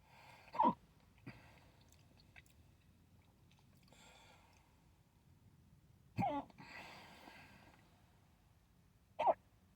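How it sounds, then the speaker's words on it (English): Three sharp hiccups from a man eating a footlong and chili cheese coney dog, spaced several seconds apart, close and fairly loud against a quiet room with faint background noise. "I just have the hiccups"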